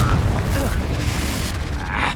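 Confringo fire spell blasting in Hogwarts Legacy, a dense rumbling boom with crackling hiss spread through a busy duel, voices of combatants mixed underneath.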